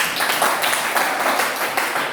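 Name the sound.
applause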